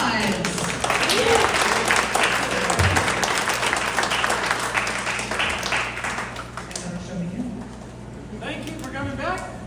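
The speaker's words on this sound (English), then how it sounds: "Give yourselves a round of applause" Audience applause at a live comedy show, sustained clapping that gradually thins out, with a voice speaking over the fading claps near the end.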